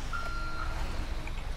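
Truck reversing alarm in the GTA 5 video game: two steady electronic beeps heard fairly clearly over a low engine rumble, with no talking.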